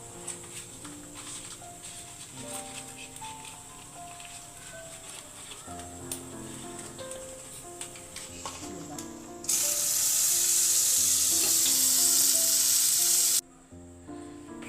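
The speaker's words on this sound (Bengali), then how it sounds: "এবারে কড়াইতে বাটারটা দিয়ে দেবো" Butter dropped into a hot wok for butter noodles: faint clinks and kitchen clatter first, then a sudden loud, sustained sizzling hiss lasting about four seconds before it stops sharply.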